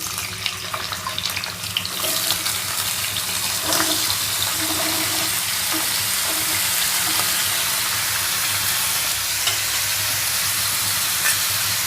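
Cut potatoes hitting hot oil in a pan for a Spanish potato omelette, giving a steady, bright sizzle that fills the scene without pause, close and fairly loud, no voices.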